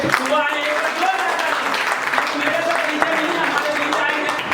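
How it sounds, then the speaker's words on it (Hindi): A meeting audience of field leaders gives a round of applause for an elderly new member, dense clapping throughout with voices and talk mixed in. "मैं चाहूंगा एक बार जोरदार तालियां उनके लिए"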